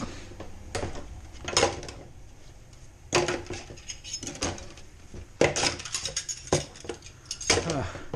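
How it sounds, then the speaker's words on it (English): Dishes clink and clatter in bursts as they are handled and washed, with soft running-water hiss and occasional quiet background voices. "I will end up actually doing the dishes"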